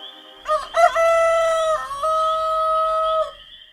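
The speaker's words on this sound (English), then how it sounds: "he heard a rooster crow twice" A rooster crows loudly and close, one long drawn-out cock-a-doodle-doo with a sharp opening and a sustained wavering tail, with no other sounds around it.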